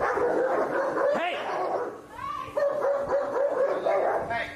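Dogs barking and yipping close by in a lively outdoor setting during a giant inflatable ball football game, with shouting voices and talk running over and between the barks.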